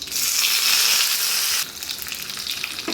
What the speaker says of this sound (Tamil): எண்ணெய் சூடாகிடுச்சு கடுகு உளுந்த பருப்பு போட்டுக்கோங்க வரமிளகா போட்டுக்கோங்க கொஞ்சம் கருவேப்பிலை போட்டுக்கோங்க